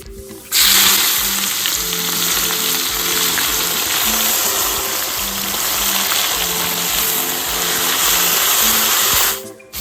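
Onions dropped into hot oil spiced with whole cumin, bay leaf, cardamom, cinnamon and cloves, bursting into a loud, dense, continuous sizzle that holds steady up close for several seconds.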